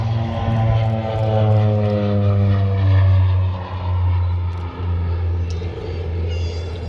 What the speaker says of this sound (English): Now this is a two-seat twin-engine STOL, fully aerobatic turboprop light attack and counterinsurgency aircraft.